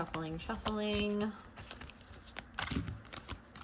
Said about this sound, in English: We're just gonna keep shuffling.